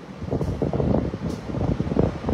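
Strong gusts of Typhoon Uwan roar in heavy, buffeting waves against the microphone, a dense rumbling blow that surges and dips without voices.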